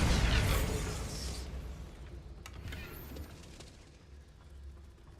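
A Bombarda blasting spell explodes in Hogwarts Legacy, a loud burst that fades into a rumbling, crackling tail with scattered debris pops, with no voices.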